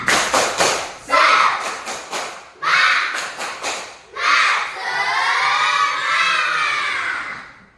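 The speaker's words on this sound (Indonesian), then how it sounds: "Tepuk semangat." Schoolchildren in a classroom perform a rhythmic cheer clap, bursts of sharp synchronized claps in quick patterned groups alternating with loud shouted chants, ending in a sustained group yell, close and loud.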